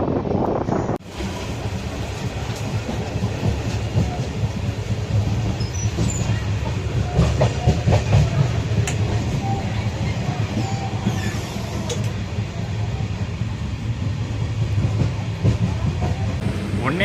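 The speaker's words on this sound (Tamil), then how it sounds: "கன்னியாகுமரி சென்னை எக்மோர் எக்ஸ்பிரஸ்" The Kanyakumari–Chennai Egmore express passenger train rumbles steadily past with continuous rolling wheel noise and faint rattling, loud and close throughout, without voices.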